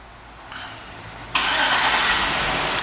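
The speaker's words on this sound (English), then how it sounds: "and the car starts right up." A 2007 Chevrolet Suburban LTZ starting by remote start: a faint click, then the engine catches abruptly and settles into a steady, loud idle nearby.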